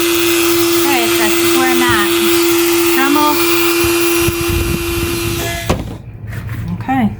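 A Dremel rotary tool whines steadily at close range while cutting a hole in a vintage globe lantern, a continuous high buzz that cuts off near the end, with a person talking over it.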